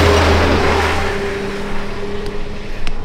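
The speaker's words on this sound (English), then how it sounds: "Oh, here comes a track truck." A truck engine at a race track rumbles loudly and steadily nearby, with a faint rising whine, its tone holding a steady drone throughout.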